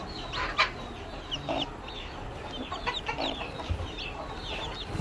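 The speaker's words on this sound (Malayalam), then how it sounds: "ഇത് black and white naked neck കോഴി കുഞ്ഞുങ്ങളാണ്" Young black-and-white naked neck chicken chicks peep and cheep repeatedly in a lively chorus, close by, over a steady background hum.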